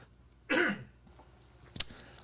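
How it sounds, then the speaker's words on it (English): A single harsh cough bursts out close by, followed a moment later by a short sharp click or tap in an otherwise quiet room. "Hold on, let me cough."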